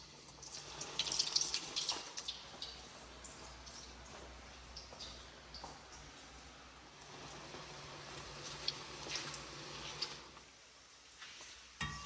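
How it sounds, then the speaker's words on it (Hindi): Veg manchurian balls dropped into lightly heated oil sizzle and crackle softly, a faint continuous hiss with scattered pops that fades near the end. "तो इनको तेल में डाल देता हूँ मैं"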